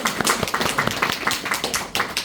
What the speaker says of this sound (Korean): 다시 한번 큰 박수 좀 부탁드립니다